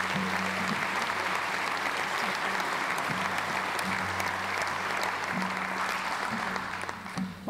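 An audience at an evening speaker series event claps steadily for a speaker, a full, sustained round of applause that fills the room before easing slightly at the end.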